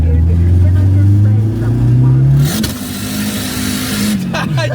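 Turbocharged rear-wheel-drive Volvo 940 accelerating hard, a loud deep engine drone climbing in pitch, briefly dipping at a gear change, then pulling again, heard from inside the car.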